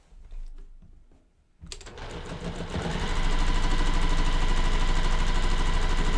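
A sewing machine sews a long quilt seam, starting after a little soft handling, then speeding into a loud, steady rapid whirr that holds to the end.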